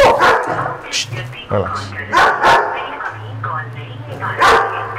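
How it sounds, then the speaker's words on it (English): A dog growls and barks in short bursts, close by, while people talk over it during a training session on leash pulling, with a puppy and a bigger dog nearby. "My surprise is that she never growls. How is she growling?"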